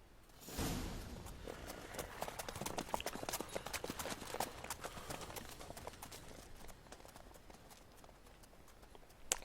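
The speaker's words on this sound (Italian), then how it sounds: "c'è un cavallo in mezzo" Horse hooves clip-clop in The Witcher 3: Wild Hunt, Blood and Wine, as a horse trots along a road, a steady fairly close patter of hoof strikes running throughout with no voices.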